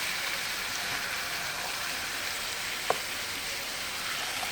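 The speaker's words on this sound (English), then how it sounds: "go ahead and allow this to brown as I fold it over" Stuffed bell pepper filling browns in a frying pan with a constant, even sizzle and one sharp click partway through, with no talking.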